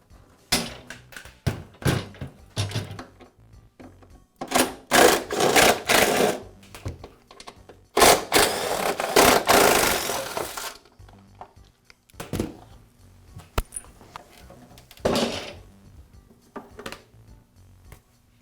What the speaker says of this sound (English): I'll tip the mower back so I can remove the bolts that secure the upper belt cover.